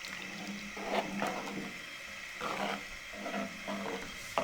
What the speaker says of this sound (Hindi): माशाल्लाह शीर खुरमे को बहुत अच्छे उबाल आ रहे हैं